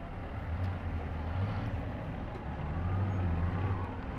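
Revving engines of vehicles at a July 4th parade in Show Low, loud and close, rising and falling twice over a steady outdoor crowd background.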